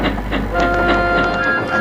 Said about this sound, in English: whistled Murdoch as he puffed away with his passenger train.